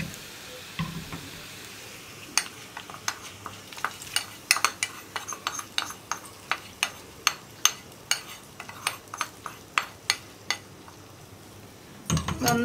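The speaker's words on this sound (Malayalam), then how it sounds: "നന്നായിട്ടൊന്ന് ഇളക്കി മിക്സ് ചെയ്യുക." Banana pachadi is stirred in a pan with a spoon, giving a long run of sharp, regular scraping clicks against the metal over a quiet, faint background.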